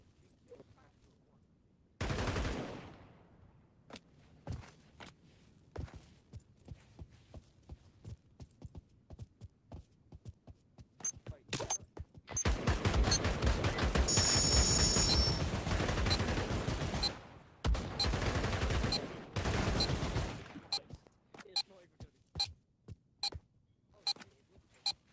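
Pistol gunfire in the VR shooter Pavlov VR: sharp, loud shots ring out repeatedly, singly and in quick bursts, with denser stretches of continuous firing in the middle.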